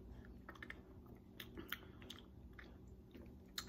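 Chewing and crunching on a homemade breakfast with whipped coffee, close and quiet: soft irregular bites and mouth sounds with a few sharper crunches, over a low steady room hum.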